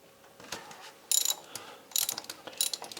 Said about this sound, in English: But I have a 36 mil socket just for this use.